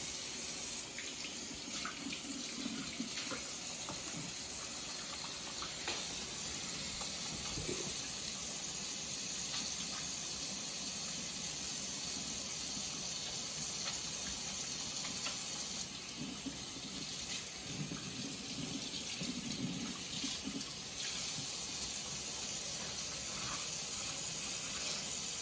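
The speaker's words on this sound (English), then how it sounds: "So I'm going to start by washing my hands." Hands being washed under a running tap before placing a Foley catheter: a steady, faint hiss of flowing water with soft splashing that shifts slightly as the hands move, continuous and unbroken throughout with no talking.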